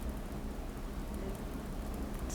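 Steady rainfall with a low thunder rumble, played back as part of an artwork on a rainy season, comes through as a faint, continuous hiss under a dull low-end roar with no voices.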